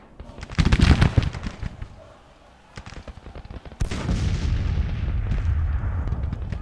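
Artillery booms and rifle fire ring out across a battlefield in the Grand Tactician strategy game. A dense opening volley fades to quieter scattered shots, then a sharp blast starts a sustained rumble of continuous firing. No one speaks over it.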